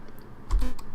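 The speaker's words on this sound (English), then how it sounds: "trying to not mind my keyboard that much because it tends to be a bit loud" A loud computer keyboard clacks with a few soft keystrokes, then a heavier burst of quick taps near the end, close and alone.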